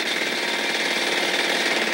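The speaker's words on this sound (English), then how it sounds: "there's nothing like the beat of a jackhammer" A jackhammer pounds in a fast, steady, continuous rattle, played over a radio as a music station in a children's television show, loud and alone.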